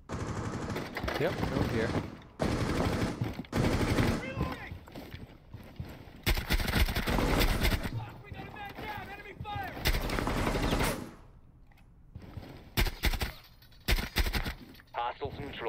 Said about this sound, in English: Gun keeps kicking.